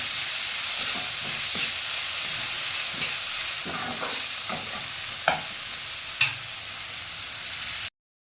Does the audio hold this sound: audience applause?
no